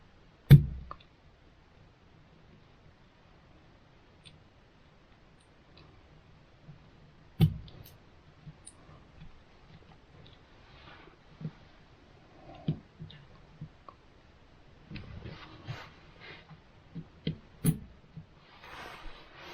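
Battery lugs from a Milwaukee M12 6Ah lithium-ion pack pushed into the contacts of a ToolKitRC M6DAC balance charger, sparse sharp clicks and small plastic knocks scattered over quiet stretches, with a cluster of taps near the end.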